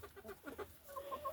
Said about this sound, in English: you can see they're happy chickens, and that's the way they should be